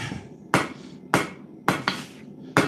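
A hammer strikes an anvil while working metal stock for a market, five sharp ringing blows landing close and loud at an uneven pace, with quiet gaps between.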